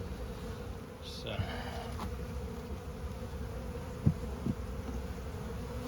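Honey bees drone steadily at a weak, thinly populated hive with a queen inside, opened for inspection. The hum stays close and even throughout, with a couple of soft knocks from handling.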